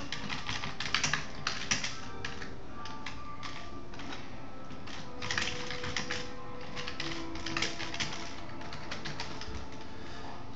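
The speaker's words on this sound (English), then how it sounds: "Type in the address." Typing on a computer keyboard while entering an address, a steady run of quick close key clicks in uneven bursts with brief pauses, quiet and alone.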